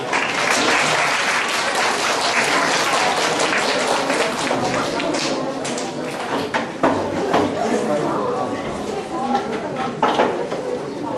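A concert audience applauds loudly and steadily for about eleven seconds, dense clapping filling the hall with a faint murmur of chatter underneath.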